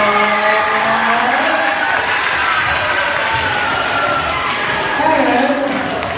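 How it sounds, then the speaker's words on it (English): An audience at a school event in America breaks into applause with cheering and a loud crowd roar, broad and sustained, while voices carry over the top. "Please give Mr. P and Miss Montgomery a big round of applause."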